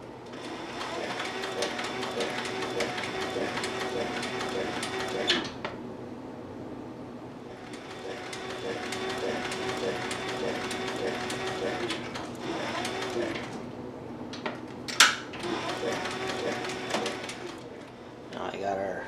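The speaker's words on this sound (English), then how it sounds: "Now I got our gusset sewn in, back, front, belt loop." Sewing machine stitching a leather long hunter's bag, sewing in the gusset, back, front and belt loop, running in steady rhythmic bursts of fast stitching with a pause near the middle and a few sharp clicks late on.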